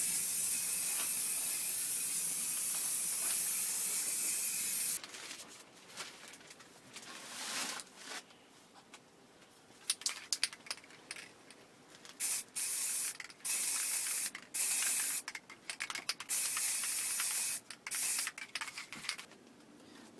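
Spray can applying a final coat of primer to a BMW style 44 alloy wheel during a home refurbishment: a steady hiss for five seconds, then a series of short, sharp spray bursts with pauses between, close and alone.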